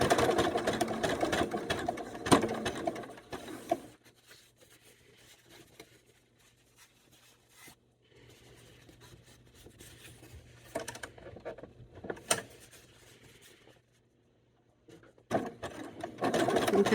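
A sewing machine stitches two fabrics together for a quilt, running in short bursts: a steady whir at the start, a long quiet stretch with faint handling sounds, then the motor running again at the end.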